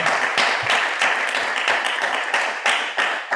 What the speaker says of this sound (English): There's a big round of applause here in the room.